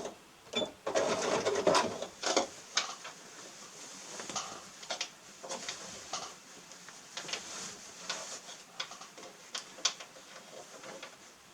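A sewing machine stitches a seam on a shell shopping bag in short mechanical runs of rapid ticking, with a longer burst near the start followed by brief, evenly spaced stitching spurts and quiet gaps, close and moderately loud.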